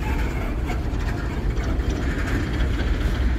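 Long freight train rolling past on curving track, a continuous heavy rumble with faint rhythmic clatter of wheels, steady and fairly close with no talk.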